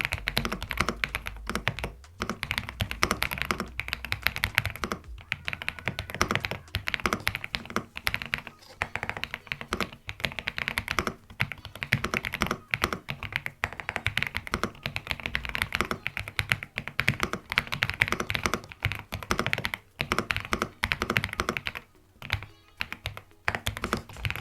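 Steady, fast clacking of an Epomaker EK98 mechanical keyboard, close and fairly loud, with brief pauses and a few heavier thunks from larger keys.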